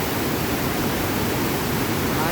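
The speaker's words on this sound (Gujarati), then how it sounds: "અશ્વિન નદી બે કાંઠે વહેતી થઈ છે।" The Ashwin river runs full after rain at Dhamsiya dam, a loud, unbroken roar of rushing water that holds steady throughout with no break.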